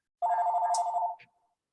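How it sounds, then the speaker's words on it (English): Office telephone bell ringing once in the background, a single steady electronic trill lasting about a second before cutting off, fairly loud and alone with no talk over it. "Excuse my phone ringing in the background."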